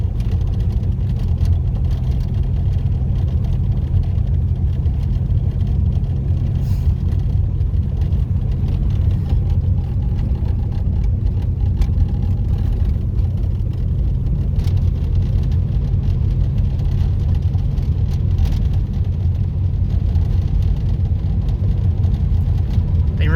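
A car without ABS drives along a dirt road, its steady engine drone and low road rumble continuing evenly throughout, with faint gritty crackles from the tyres on the unpaved surface and no talking.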